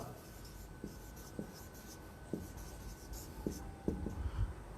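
A pen writing an accounting entry on paper, with faint scratching and light taps of the nib, close and quiet under a steady low room hiss.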